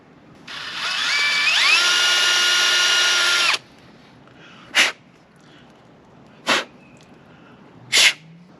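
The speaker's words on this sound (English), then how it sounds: "a drill and a carburetor are not things that usually go together" A power drill whines loudly for about three seconds, drilling into the carburetor of a 1999 Yamaha YZ400F that sat for eight years, its pitch climbing as it spins up, followed by three short sharp bursts spaced apart.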